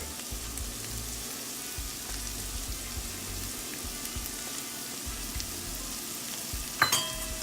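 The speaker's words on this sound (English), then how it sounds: "what I'm going to start doing is adding our onions. And our garlic." Onions and garlic added to softened ingredients in a pan for corn bread stuffing give a steady, close sizzle that holds throughout, with a brief clatter of utensils near the end and no speech.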